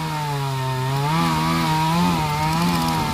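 A chainsaw bites into the base of a tree trunk below a branch, its steady engine whine rising and dipping slightly in pitch as it bears into the wood, loud and continuous throughout.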